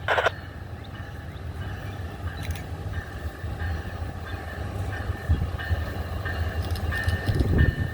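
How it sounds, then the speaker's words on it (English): Amtrak passenger train 52 rolling northbound through Ashland, Virginia, a steady loud rumble of wheels and cars passing close, with a brief horn-like tone near the start. "Looks like the Amtrak 52 coming at you northbound."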